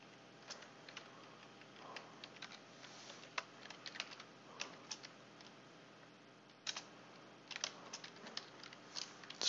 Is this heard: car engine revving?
no